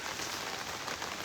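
Steady rain patters on a hard surface on a wet weekend day at home, a dense, even hiss that fills the moment without a break and with no voices.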